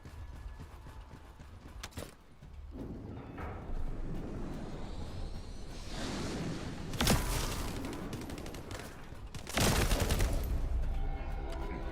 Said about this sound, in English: Right now, I am using my submachine gun.